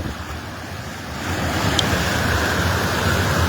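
A swollen river rushes in a continuous loud, broad roar that swells slightly partway through, with steady wind buffeting the microphone and no voices.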